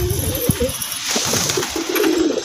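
Wild pigeon heard close by cooing in low, throaty calls over a few seconds, with some handling noise and brief thumps, no speech.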